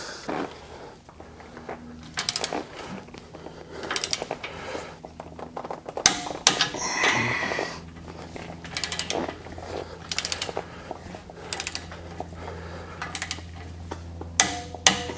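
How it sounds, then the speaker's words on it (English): A torque wrench tightens the sector shaft brace bolts on a Jeep JT to 59 foot-pounds, giving a string of sharp ratcheting clicks in irregular bursts over a steady low mechanical hum, close by, with no talking. "now we'll torque all those to 59 foot-pounds."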